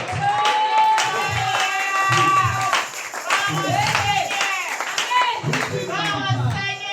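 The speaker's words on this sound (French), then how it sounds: "Can we put our hands together for the glory of God?" A church congregation claps hands together in steady, loud bursts of applause, with voices calling out and a bright sung or shouted tone over the clapping.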